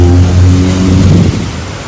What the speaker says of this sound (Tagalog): Lakas mo ng ulan.